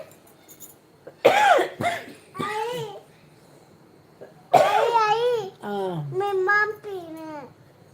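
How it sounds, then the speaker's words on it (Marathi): A young girl coughs in short harsh bursts at close range, mixed with whiny child speech and crying-like vocal sounds between the coughs. "मला खोकला यायला लागला."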